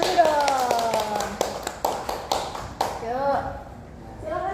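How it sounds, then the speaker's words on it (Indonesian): A small group claps in a teacher-training classroom, a short run of sharp, evenly spaced claps after a spoken or sung passage, with voices continuing afterward. "Kita tepuk tangan dulu dong."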